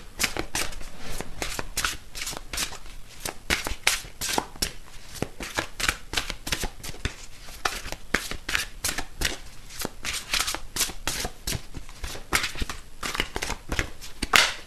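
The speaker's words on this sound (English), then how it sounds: "so let me grab these cards that I felt drawn to get" A deck of tarot cards shuffled continuously, a dense run of rapid flicking and slapping card noises, close up and steady throughout, with no voices.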